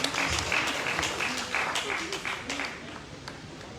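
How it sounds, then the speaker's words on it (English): Steady applause from an audience fills the clip, dense clapping that slowly fades toward the end, with voices mixed in. "Put your hands together for her."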